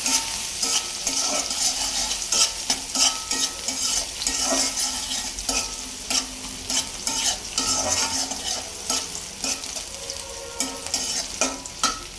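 Bottle gourd curry sizzles and fries in a pan while a utensil stirs it in steady, repeated scrapes, close and fairly loud, with no talking.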